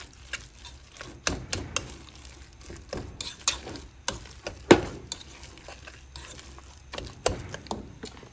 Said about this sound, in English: And I'm going to begin to mix.